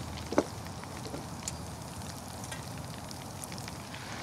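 Fish frying in a cast iron Dutch oven on a wood-fired 180 Tack stove outdoors: a steady, moderate sizzle and bubbling of oil throughout, with a couple of faint clicks and ticks.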